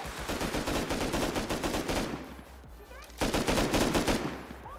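Sustained AK rifle fire in the Rust console survival game, loud continuous automatic bursts that break briefly near the middle and then resume hard.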